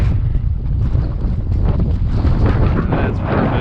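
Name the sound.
wind blowing on a sunny day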